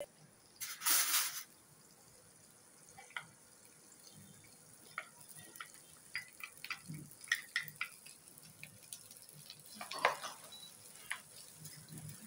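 Mixed vegetables stir-fried over low heat in a pan with butter for Yangchow fried rice: a faint, gentle sizzle with scattered spatula scrapes and taps, and a brief louder burst near the start.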